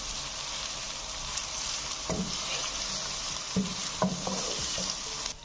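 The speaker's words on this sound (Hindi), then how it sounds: "ये मैंने 2 मीडियम साइज के प्याज लिए हैं। इनको अच्छी तरह ब्राउन करेंगे।" Two medium onions browning in oil in a pan for chicken korma, a steady close sizzle with a few knocks and scrapes of stirring, moderately loud and continuous.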